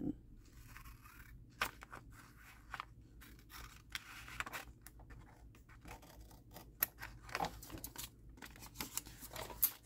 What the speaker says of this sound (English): I'm cutting on that fold line and I'm going to cut even.